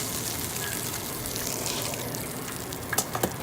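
Hot frying oil drains off freshly cooked chicken empanadas with a steady hiss and light sizzle, ending in a few small taps or clinks near the end; no one speaks.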